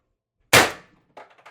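One sharp, loud report from a CO2-powered air gun with a stock build running four 12-gram cartridges, fired close, with a quick decaying ring and small mechanical clicks after.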